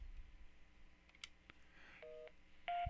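Keypad tones from a C1 HD high-definition desk phone as the intercom button is pressed: a few short electronic beeps, then a sustained steady tone at the end, fairly faint over a quiet room.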